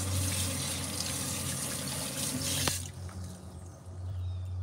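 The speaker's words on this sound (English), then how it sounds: "Then we're going to wash all the blood out." A kitchen tap runs to rinse blood out of a freshly caught fish. The water rushes and splashes steadily, then cuts off partway with a brief clunk, leaving a faint low hum.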